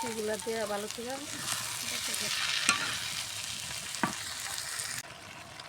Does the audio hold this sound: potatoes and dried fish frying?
yes